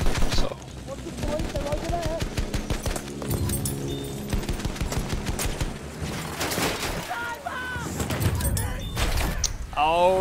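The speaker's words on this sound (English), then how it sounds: "Oh, they're shooting me!" Bursts of gunfire in the video game Battlefield 1 on the Cape Helles map, rapid rifle and machine-gun shots mixed with loud impacts, heard under players talking over voice chat throughout.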